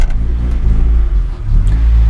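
A manual transmission car's engine rumbles loud and steady in low gear while it slowly reverses into a garage, with a slight rise in revs partway through and no talk.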